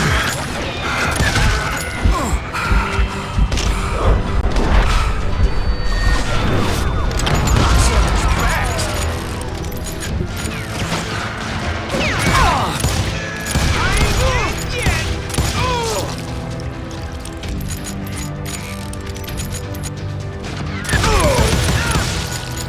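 Gunfire and crashing in the Western shooter Call of Juarez Gunslinger, with repeated shots and booms spread through a long stretch of loud, busy game action.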